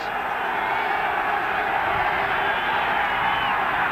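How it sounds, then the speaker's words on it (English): A stadium crowd at a 1985 NFL football game, Cincinnati Bengals at New England Patriots: a steady, dense roar of many voices filling the background while a commentator talks over it. "The crowd here chanting defense."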